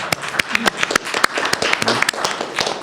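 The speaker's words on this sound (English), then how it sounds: "Give them another round of applause." Audience applause closing a debate on national security and cyber surveillance, a fairly loud patter of many hands with sharp individual claps standing out, continuing steadily without speech.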